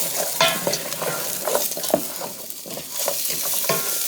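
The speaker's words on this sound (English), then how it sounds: "Alright, so we got the onions and garlic going." Chopped onions and garlic sizzle together in a pan, a close, steady crackling fry with frequent scraping stirs and small clatters throughout, and no talking.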